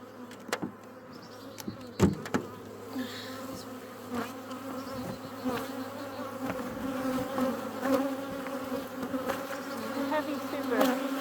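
Honeybees buzz steadily around an open beehive while a super is set back on, a dense droning hum close by with occasional knocks and thumps from handling the wooden boxes.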